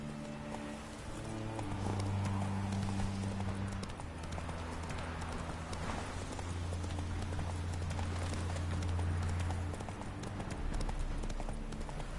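Horse hooves clip-clop steadily along a road in the video game The Witcher 3, a brisk even rhythm heard close over a droning musical backdrop, with no talking.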